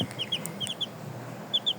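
Poultry chickens peeping and clucking nearby, a series of short high repeated calls at an irregular rhythm over a soft background hum.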